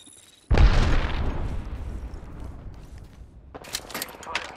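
A grenade blast in the Apex Legends video game bursts in loud and sudden, then rumbles off into a decaying roar, followed by crackling gunfire near the end.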